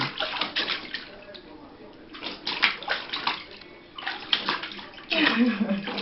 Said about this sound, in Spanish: Chapotea, chapotea, Josué.